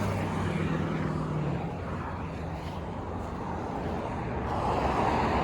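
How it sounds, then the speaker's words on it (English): Busy roadside near a highway off-ramp and intersection with cars revving and passing, a continuous dense traffic roar with engine swells rising toward the end, heard from the sidewalk without talk. "as cars kind of rev up"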